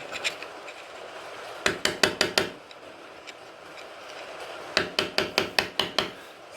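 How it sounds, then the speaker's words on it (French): Two quick bursts of sharp hammer blows on a bicycle chain, peening over the rivet pin while fitting a new sprocket and chain kit; about four to five close, loud metallic taps per burst with a pause between. "je vais marteler pour bien rabattre la goupille"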